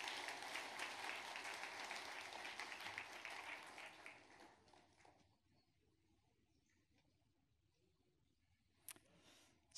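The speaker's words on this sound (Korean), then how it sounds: "우리 한번 크게 박수해 주셨으면 좋겠습니다" Congregants at a Sunday church service give a round of clapping that is brisk for about four seconds, then thins and fades into near silence, with a faint tap near the end.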